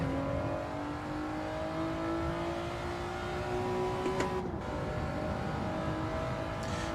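Race car engine in a racing video game lapping a track, a continuous loud high drone with a slowly rising pitch and a brief dip around a gear change.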